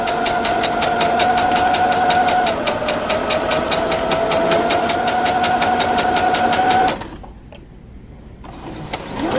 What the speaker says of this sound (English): we're going to sew and backstitch, and then continue sewing.